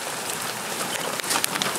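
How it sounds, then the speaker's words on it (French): Steady hiss of rain falling, dense and close, with scattered drops pattering on a surface and no voices. "et il pleut dans ton pays"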